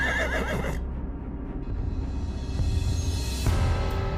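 A horse gives a loud, close whinny that rises and trails off over several seconds, alone with no talk, set in a royal stable.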